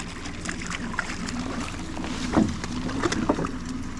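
A motorboat trolls at about 4 miles an hour on the water, with a steady low engine drone, sloshing and splashing sounds, and wind buffeting the microphone.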